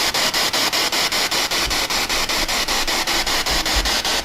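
Loud, harsh static hiss from a ghost hunting spirit box device sweeps in quick regular pulses, chopped into short bursts about every quarter second, steady and close with no voices over it.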